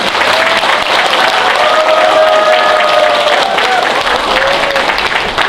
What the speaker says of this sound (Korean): 여러분 다시 한번 뜨거운 박수 부탁드립니다.